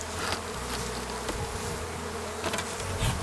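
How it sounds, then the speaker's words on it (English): Dense, steady buzzing of many honeybees crowded in a hive box during a spring inspection after winter, loud and close throughout with no talking. "We got lots of bees here."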